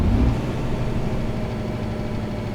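A truck engine in Euro Truck Simulator 2 drones at high revs, a steady, heavy, low rumble that holds constant and close without any break.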